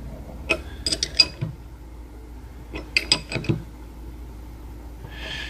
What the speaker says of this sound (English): grab a wrench and see if we can get that tightened up